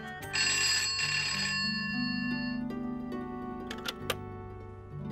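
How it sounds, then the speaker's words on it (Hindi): A telephone ringback tone repeats on an outgoing call placed from a home, steady electronic tones cycling in a regular pattern, clear and close with no talk over it. "एक बार अक्षरा को फोन करके पूछ लेती हूँ"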